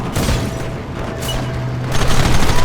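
Gunfire from a battle in the video game Red Dead Redemption: a dense, loud barrage of rapid overlapping shots and booms, continuous throughout, with a heavier burst near the end.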